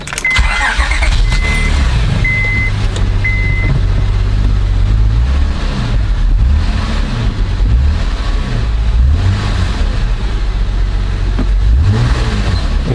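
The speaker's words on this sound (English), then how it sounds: "So I'm gonna start her up, make sure there's no check engine light." A 2004–2007 Honda Accord engine, just repaired for a throttle/pedal position fault, cranks and catches, then runs with uneven revs rising and settling, loud and close with no talk.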